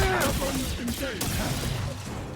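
Weapons firing in a sci-fi video game: a few sharp blasts rise over a steady electronic hum and tonal game sounds, with voices present throughout.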